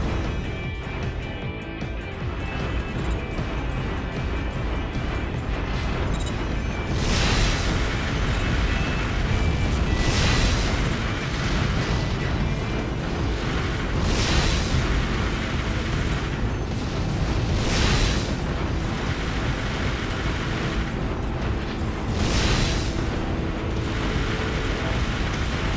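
Targets blowing up in the mech combat game Armored Core: for Answer, a dense continuous roar of repeated booming explosions with periodic bursts over a steady rumbling din.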